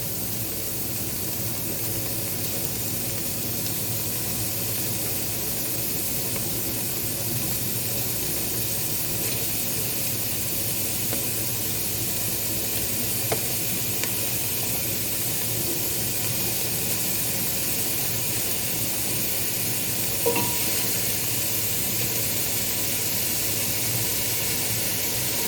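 Minced meat fries in a pan for lasagne with creme fraîche, a steady broadband sizzle and hiss that holds unbroken and close throughout, with only a couple of faint clicks.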